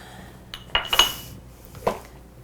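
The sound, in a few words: serving dishes and glass jars clinking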